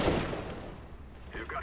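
A brief, loud burst of gunfire sounds in the CS:GO video game, with a sharp crack fading into a noisy tail.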